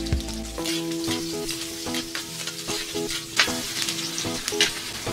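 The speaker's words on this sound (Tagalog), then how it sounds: "sa isang kawali magigisa muna tayo ng sibuyas. Sunod ang bawang." Onion and then garlic sauté in a pan as the base for sweet and spicy pork spare ribs, giving a steady close sizzle with light crackles and occasional stirring scrapes, and no one speaks.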